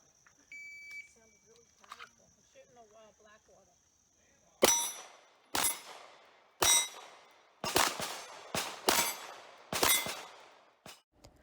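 Pistol shots ringing off steel plates at a steel shooting competition, about nine sharp cracks each followed by a metallic clang, coming in an uneven rhythm after a few seconds of beeps and quiet talk.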